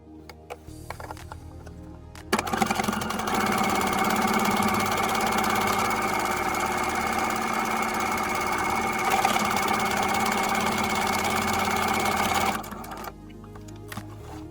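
Sewing machine stitching a buttonhole in a pajama set, running in one long, even mechanical whir for about ten seconds, close and steady, with short clicks before and after.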